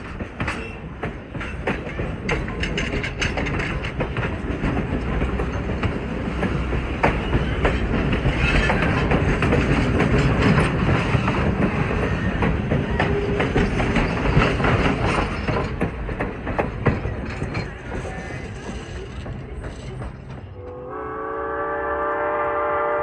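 A steam locomotive on the Strasburg Railroad blows condensation out of its cylinders in a loud, roaring hiss of escaping steam that holds for about twenty seconds, then gives way to a sounding whistle at the end.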